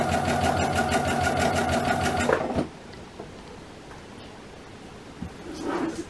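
A sewing machine hemming the sleeves of a Halloween robe rattles through a fast, loud burst of stitching for a couple of seconds, then stops, leaving faint fabric handling and rustles.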